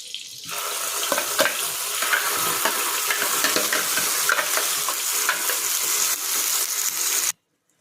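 Ground masala paste frying in oil and butter in a pan, a steady loud sizzle with stirring scrapes throughout that cuts off abruptly near the end.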